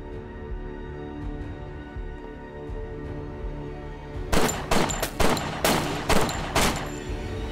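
Gunfire from shooting practice in a wartime TV drama, several sharp loud shots in quick bursts close by, following a quiet stretch.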